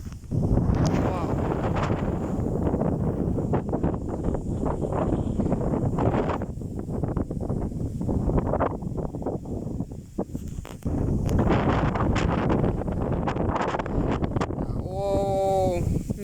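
Strong wind gusts buffet the microphone in an open field during a storm, a loud roaring rush that surges and eases in waves, with someone talking in between.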